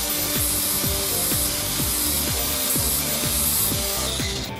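A Bosch disc grinder grinds metal on an AE86 four-throttle project, giving a loud, continuous abrasive whine with steady, repeating pulses of load throughout.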